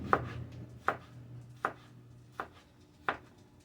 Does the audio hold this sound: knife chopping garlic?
yes